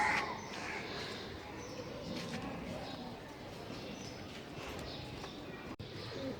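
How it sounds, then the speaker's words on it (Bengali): Pet doves and pigeons coo softly nearby in a quiet setting, the low cooing calls repeating faintly against light background noise, with a voice speaking at times. "এই ঘুঘুগুলি আনার পর আরও ওরা সুন্দর করে ডাকে"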